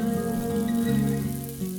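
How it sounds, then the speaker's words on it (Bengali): About two cups of water pour into a hot pot of spices frying in oil for an egg curry, giving a steady, close hiss and sizzle with rushing, rain-like texture throughout. "মশলাগুলি আবারও তেল ছাড়তে শুরু করলে আমি ওতে দিয়ে দেব জল"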